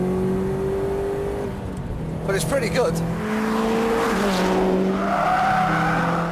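A Litchfield-tuned Subaru WRX Type 25 pulls hard in fourth gear from about 3,000 rpm on an open road, its engine note droning steadily and rising under a voice talking over the drive.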